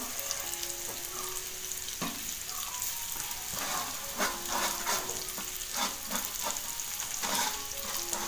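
Surmai fish slices frying in oil in a pan, giving a steady, dense sizzle that runs throughout with faint crackling pops and occasional light clinks, close and continuous.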